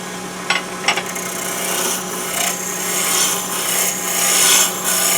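A spindle roughing gouge rasps against a wooden peppermill blank spinning on a lathe, a continuous close scraping with a few sharp catches at the start and gently swelling intensity throughout.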